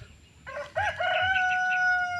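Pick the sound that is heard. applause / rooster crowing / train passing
rooster crowing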